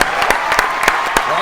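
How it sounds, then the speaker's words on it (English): A studio audience claps briefly in a short, close, steady burst of applause lasting under two seconds, with talk faintly underneath. "Round of applause."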